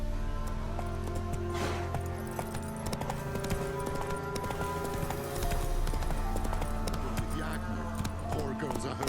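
Roach, a horse in The Witcher 3: Wild Hunt, gallops with a steady, rapid clip-clop of hooves under continuous game ambience, sounding close and even throughout.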